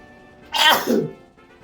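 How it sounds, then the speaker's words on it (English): A single sharp human sneeze, close and loud, a quick inhaled build followed by the explosive burst, alone against a quiet room. "I have to sneeze"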